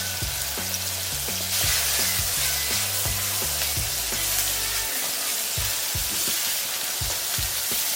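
Sliced onions fry in hot oil in a kadai, a dense, loud crackling sizzle with rhythmic scraping thumps of stirring for the first few seconds, then a continuous hiss with occasional taps.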